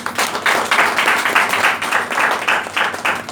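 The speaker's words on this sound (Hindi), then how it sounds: "तो इनके लिए एक बार जोरदार तालियां।" Lively audience applause at a product presentation, with many people clapping in a loosely rhythmic pattern whose bursts pulse and swell, moderately loud and continuous for a few seconds.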